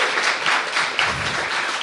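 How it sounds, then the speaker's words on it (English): Audience applause, a brief burst of steady clapping from a crowd, moderately loud and alone. "So please give him a big round of applause"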